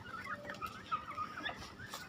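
Chickens, a rooster and hens, cluck softly at a farm while feeding, with short scattered clucks and calls, faint and somewhat distant, no talking.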